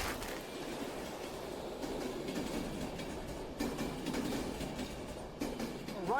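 A train rumbles past on the tracks with a continuous rolling roar and faint clatter of wheels, moderately loud, ending in a brief high squeal; no clear horn blast stands out.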